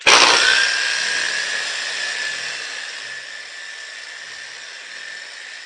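A Porter Cable polisher set to speed 3 spreads wax across a car's paint, a steady high whine that starts loud and eases slightly as it runs, alone with no voices.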